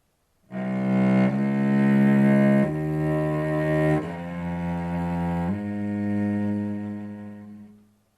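A low cello plays a slow five-note motif climbing step by step, each bowed note held about a second, full and resonant with no voices.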